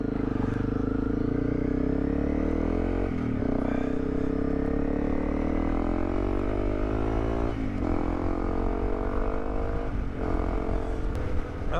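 Motorcycle riding along a road on a cold winter day, a loud continuous engine drone with shifting pitch and steady wind rush close to the rider, no voices.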